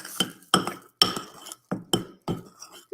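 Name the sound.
stirring a mixture in a glass container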